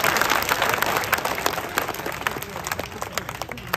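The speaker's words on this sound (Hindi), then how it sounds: "तालियां बजाओ, जोर से बजाओ तालियां" An audience applauds steadily, a dense wash of clapping from a large crowd, with some voices mixed in underneath.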